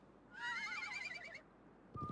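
A horse whinnies in the Wild West chapter of the video game Live a Live, a faint, quavering neigh that is followed moments later by a short sharp sound.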